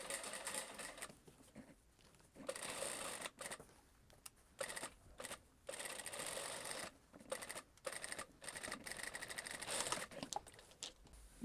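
A sewing machine stitches the neckline of a blouse in close, rapid whirring runs that start and stop repeatedly with short pauses in between, and no one talks.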